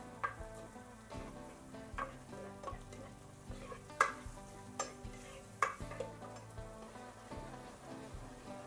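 Onions and corn sautéing in a pan for garlic mushroom rice, a faint, steady sizzle broken by sharp taps and scrapes of a spoon stirring against the pan at irregular intervals.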